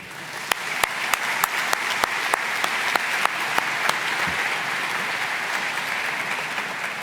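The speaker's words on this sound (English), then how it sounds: "join me with one more round of applause for Texas A&M and all the other sponsors" An audience applauds Texas A&M and other sponsors at the Association of Space Explorers opening ceremony, a steady crowd wash with sharp, distinct nearby claps ringing out for the first few seconds before the clapping settles and thins.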